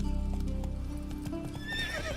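Geralt's horse Roach in The Witcher 3 whinnies loudly, with clip-clopping hooves steady under it, the neigh rising sharply near the end.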